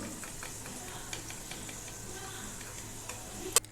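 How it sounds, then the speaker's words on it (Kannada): Snacks frying in hot oil and being turned over, a soft steady sizzle with light intermittent clicks of a utensil against the pan and one sharper tap near the end. "ಇದನ್ನು ಹಾಗೆ ಎರಡು ಕಡೆ ತಿರುಗಿಸಿ ತಿರುಗಿಸಿ ಚೆನ್ನಾಗಿ ಒಂದೇ ರೀತಿ ಫ್ರೈ ಮಾಡ್ಕೊಳ್ತಾ ಇದ್ದೀನಿ"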